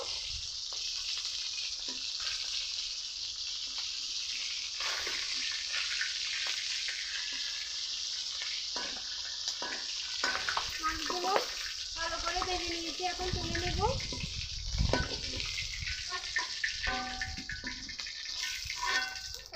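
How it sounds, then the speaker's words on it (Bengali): Magur catfish fry in hot oil as a continuous hissing sizzle that holds for the whole stretch, growing busier and crackling midway, with a voice talking briefly underneath. "তেল গরম হয়ে গেছে এখন মাছ ভেজে নিব দুবার করে ভাজতে হবে"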